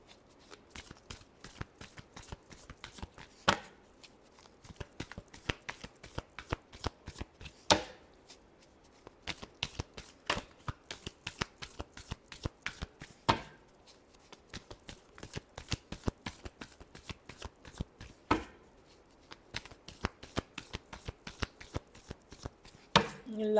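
Tarot cards being shuffled make a long, steady series of crisp riffling snaps and slaps, repeating in bursts at a close, fairly even pace for over twenty seconds, with no voice over them.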